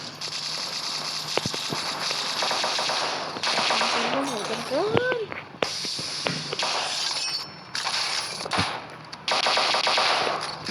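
Rapid bursts of automatic gunfire in a shooting video game, loud and near, with brief pauses between volleys and players chattering underneath.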